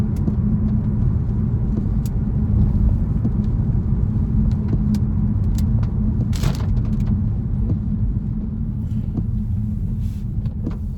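A car drives along a road near the M25 under dripping trees, heard from inside as a loud, steady low rumble of engine and tyres, with a few small knocks and a brief whoosh partway through.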